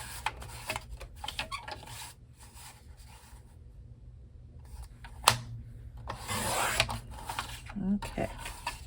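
Paper being trimmed for a craft journal, with soft rubbing and rasping strokes near and steady, in short bursts across the span and a brief sharper scrape midway.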